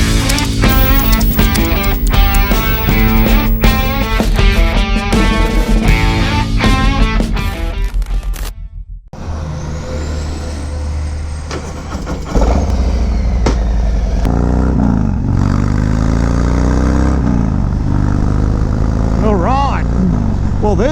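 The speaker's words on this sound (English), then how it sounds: "It's test ride time back at Sun City Harley in Townsville, and we're taking the FXDR for a spin." A 2019 Harley-Davidson FXDR 114 on a test ride: a loud, continuous engine drone that drops away briefly, then returns as steady roaring road and wind noise.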